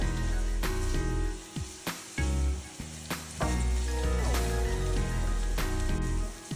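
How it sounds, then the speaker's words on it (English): Diced onions sizzle and crackle steadily in a pan over low heat, a loud close frying hiss broken by a few sharp clicks and scrapes of stirring. "Then we'll be adding our diced onions to the pan. And stirring them on low heat."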